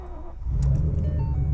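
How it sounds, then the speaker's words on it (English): A Ford Shelby GT500 Super Snake V8 cranks and fires up, settling into a loud, deep, rumbling idle close by, with no speech over it. "here we go, starting up the Super Snake."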